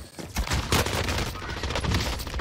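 Rapid gunfire from the OTS submachine gun in the Warzone Rebirth Island video game, a dense, continuous burst of shots close up and loud, running almost without pause through the whole stretch.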